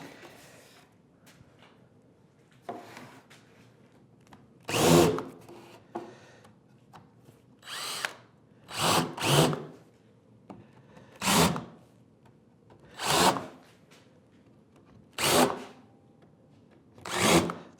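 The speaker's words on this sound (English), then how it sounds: "I'm going to countersink it from the underside." A hand drill countersinks a screw hole from the underside of a wooden tool well add-on, a series of short whirring, grinding bursts repeated about eight times with quiet gaps between.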